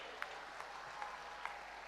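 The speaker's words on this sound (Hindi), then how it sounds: "3 गोल किए थे दिलप्रीत ने ओलंपिक्स में, 300 तालियां बजनी चाहिए इनके लिए।" Soft, diffuse applause from a crowd fills the clip, a few louder claps standing out above the steady wash.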